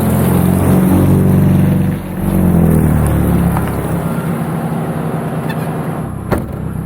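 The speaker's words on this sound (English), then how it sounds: "Start the long drive home." Car driving along a road on an island in the Philippines, with a loud, close, continuous engine drone and road rumble from inside the vehicle, without talk.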